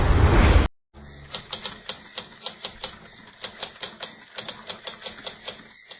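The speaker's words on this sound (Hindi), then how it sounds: "टाइपराइटर की बटन दबने की आवाज सुनाई दे रही थी।" After a brief burst of noise and a pause, typewriter keys clack in quick, uneven runs of sharp taps, fairly close and alone.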